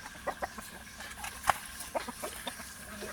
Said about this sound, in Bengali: প্রচুর মোরগ আছে আল্লাহ রহমতে